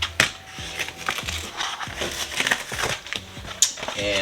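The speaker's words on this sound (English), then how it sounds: "now I'm gonna go ahead and just peel what we don't need" Excess Oracal glitter vinyl is peeled off a Cricut cut, producing continuous close crackling and tearing with stiff, uneven bursts of crinkle and no talk.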